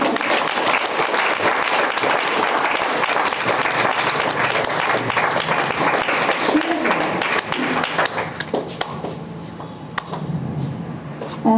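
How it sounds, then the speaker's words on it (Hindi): An audience at an RCM business achievers' event claps loudly and continuously, with voices mixed in, before the applause thins out and a speaker talks over the room. "एक बार जोरदार तालियां बजती रहेंगी सभी के लिए"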